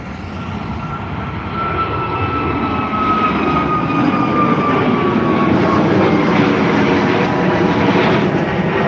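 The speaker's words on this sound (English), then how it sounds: "taking off now, we have the Ryanair flight to Brussels, 737 MAX 8 209H VUI, taking off right now on the south runway at Dublin Airport." A Ryanair Boeing 737 MAX 8, operated by Malta Air, taking off from the south runway at Dublin Airport, its jet engines a loud steady roar with a rising whine, building slightly over the clip.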